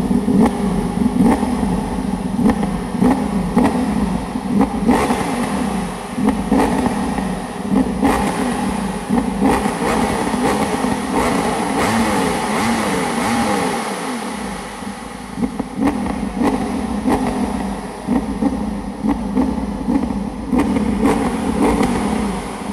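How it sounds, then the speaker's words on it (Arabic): A high-performance Ferrari or Ducati engine revs loud and close for over twenty seconds, with rising and falling sweeps and dense mechanical texture that climbs toward the redline again and again. "الصوت العميق عند السرعات القليلة، الصرخة لحد لما توصل للريد لاين"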